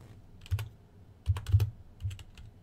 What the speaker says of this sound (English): Let me just type this in here.